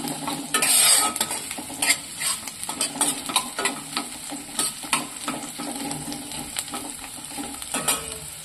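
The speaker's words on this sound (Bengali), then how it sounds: "পেঁয়াজটা অল্প একটু ভেজে নেব।" Finely chopped onions fry in a little mustard oil and are stirred repeatedly, so rhythmic spatula scrapes and clinks against the pan sit over a continuous sizzle, with no speech.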